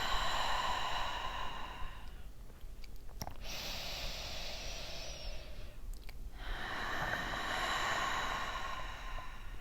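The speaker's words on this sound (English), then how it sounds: "take 3 breaths. Inhaling through your nose and exhaling out your mouth." Slow, deep breaths drawn in through the nose and let out through the mouth during a calm guided relaxation, with soft airy inhale and exhale cycles and two short pauses between them.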